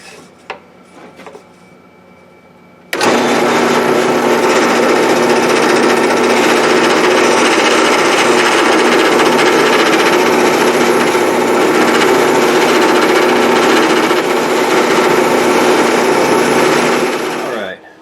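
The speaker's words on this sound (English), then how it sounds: "It has a hole drilled in it so that a little bit of this sanding drum will be below the surface, and just so that I can sand this whole inside curve" A sanding drum spins on a drill press against the inside curve of a wooden phone stand, a steady loud whirring grind that starts abruptly after a quiet moment and runs continuously to the end.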